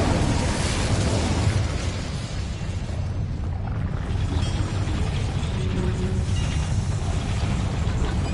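An Incendio fire spell cast in the Hogwarts Legacy video game, heard as a loud, sustained roaring blast of flame that rumbles continuously for several seconds with little variation.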